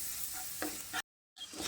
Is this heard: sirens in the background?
no